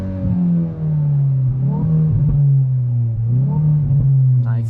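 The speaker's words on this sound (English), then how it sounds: "immediately when you turn on the N mode you have an even more impressive sound" A Hyundai i20 N with N mode engaged, its engine running with a steady low drone that swells in two gentle revs, loud and close with no talking.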